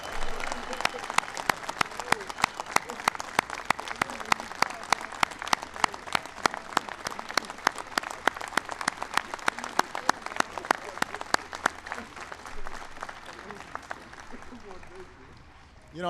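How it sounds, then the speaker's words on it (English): An audience at the White House gives a long round of applause for wounded warriors during a New York Giants Super Bowl champions event, steady crisp clapping that slowly fades toward the end. "Let's give them all a big round of applause."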